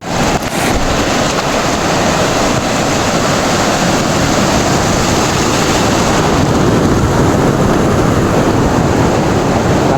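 Loud, steady roar of sea waves breaking on Gopalpur beach, continuous surf wash filling the scene with wind rumble against the microphone.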